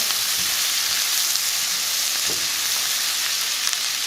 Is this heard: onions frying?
yes